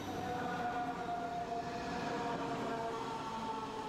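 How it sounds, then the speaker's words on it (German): A train hauled by an E18 electric locomotive rolls into a station on an Upper Bavarian line, giving a steady, moderately loud rumble of wagons with a faint whine of wheels throughout. "Der Gegenzug ist eingefahren."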